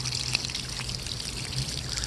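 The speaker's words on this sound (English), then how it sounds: "now you can see the water coming out of those holes and pouring out now" Water pours steadily out of the holes of a rotating koi pond filter, making a continuous close splashing and trickling rush with no voices.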